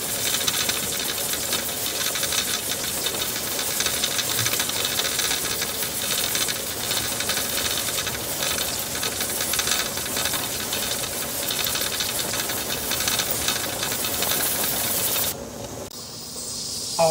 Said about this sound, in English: we had a steady stream of steam for 10 minutes